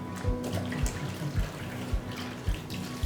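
Cold tap water runs steadily over cooked noodles in a colander, with the noodles rinsed before being rubbed clean for kimchi noodle soup. The flow is a continuous close splash, and soft knocks and thuds recur about every half second.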